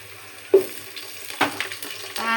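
Onions and spices with cardamom frying in a pan for vegetable khichuri, stirred with a utensil: a low sizzle under a few sharp scrapes and clinks against the pan, close by.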